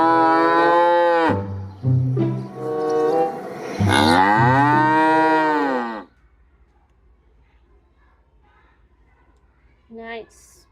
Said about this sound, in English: Wow, this is a cow.